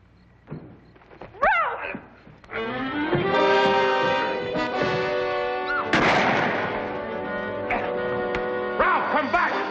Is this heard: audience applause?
no